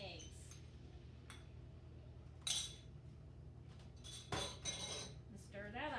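Spoon stirring two beaten eggs into a batter for porcupine balls, with scattered clinks of a utensil against a bowl or pot over a steady low hum, one louder knock partway through.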